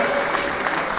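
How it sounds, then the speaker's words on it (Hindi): Dense, steady clapping from a large crowd at a film festival awards ceremony in Kurukshetra, loud and continuous throughout. "जोरदार तालियां"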